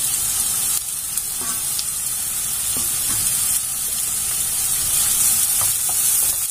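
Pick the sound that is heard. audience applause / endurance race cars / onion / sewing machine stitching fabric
onion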